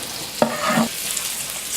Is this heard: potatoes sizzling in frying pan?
yes